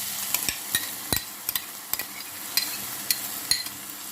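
A utensil stirs garlic, carrots and beetroot frying in a pan, with repeated sharp scraping knocks at an uneven rhythm over a soft, constant sizzle close by.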